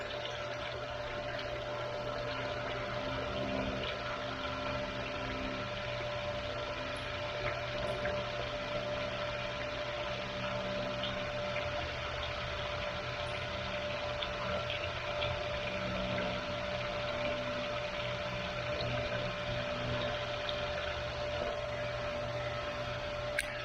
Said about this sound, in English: I'm filling up the bucket.